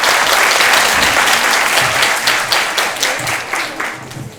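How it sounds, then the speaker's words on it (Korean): An audience at a science lecture applauds after the talk, a loud, even wall of clapping from many hands that carries on steadily with no pauses. "이창훈 교수님께 다시 한번 큰 박수 부탁드리겠습니다"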